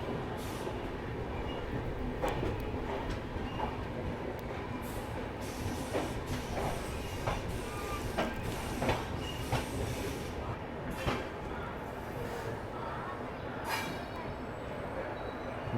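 The Bihar Sampark Kranti Express, led by a WAP4 locomotive, rumbles steadily from inside a coach, with rhythmic wheel clacks over rail joints and a few squeals throughout.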